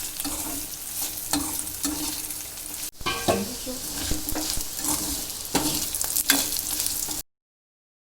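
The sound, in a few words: chicken chilli simmering and being stirred in covered pan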